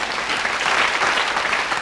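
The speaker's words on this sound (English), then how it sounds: "that, if I'm not mistaken, is the clap of shame" Audience applause greets a comedian's line at a live comedy show, a dense, steady wash of many hands clapping at close range for a couple of seconds with no voices over it.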